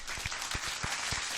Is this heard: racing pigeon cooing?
no